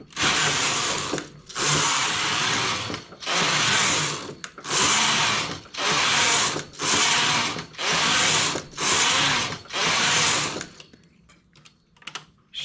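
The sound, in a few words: knitting machine knitting a skirt with cable stitches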